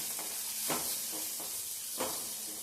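Onion and crushed garlic fry in a pan, hissing and sizzling steadily while a spoon stirs them in a few distinct scraping strokes. The sound is close, and no one speaks.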